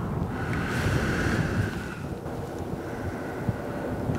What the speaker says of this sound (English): Gotta wait for the wind to die down.